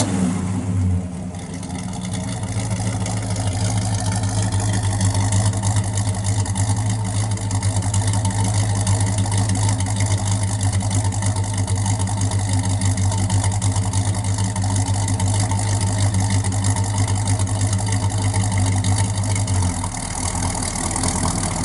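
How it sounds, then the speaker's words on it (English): A 1965 Pontiac LeMans GTO with a mild aftermarket cam idles steadily through its exhaust, a loud, even, lumpy rumble that holds for about twenty seconds with no talk. "Sounds real good out the exhaust."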